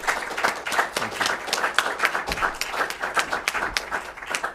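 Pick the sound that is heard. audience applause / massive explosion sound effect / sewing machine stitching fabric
audience applause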